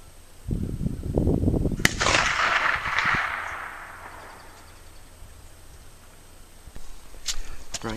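A Romanian AK rifle fires at a torso target 250 yards away, loading Lee 160 grain spitzer cast bullets. Sharp outdoor reports with a rattling burst, followed by a long rolling echo and a few fainter distant pops.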